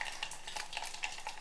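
Cumin seeds and asafoetida crackling in hot oil as tempering for an Andhra fenugreek mango pickle, with light stirring scrapes and a quick, busy sizzle heard up close with no voices.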